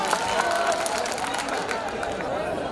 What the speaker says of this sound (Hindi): एक बार तालियां बजा दें आप लोग